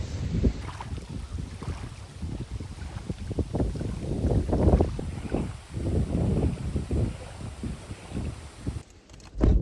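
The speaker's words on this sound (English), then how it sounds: "it is a windy one out there" Strong gusty wind buffeting outdoors, rumbling and roaring in uneven surges, loud and close with no talking.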